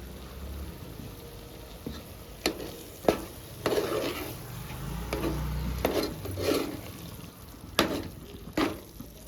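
Mutton curry with drumsticks and chili powder is stirred in a pan, with repeated spoon scrapes and knocks over a soft, continuous sizzle, close and moderately quiet.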